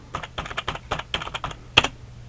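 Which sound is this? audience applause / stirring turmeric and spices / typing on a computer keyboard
typing on a computer keyboard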